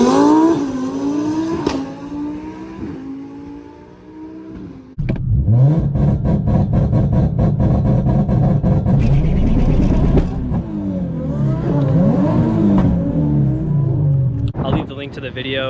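A Nissan Nismo car revs hard at a drag racing track day, its loud engine rising and falling in a few long pulls after a short idle-like opening.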